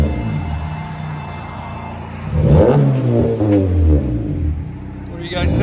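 2019 Honda Civic LX Turbo revving with the muffler removed, a raw engine rising into a loud rev and settling back, heard up close as a person talks over it.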